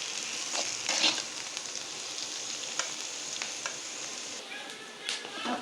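Pirandai (adamant creeper) sautéing in a pan, a steady close sizzle with occasional scraping stirs and utensil taps, no voices.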